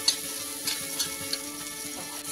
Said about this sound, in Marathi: टोमॅटो बघा चांगला परतून झालेला आहे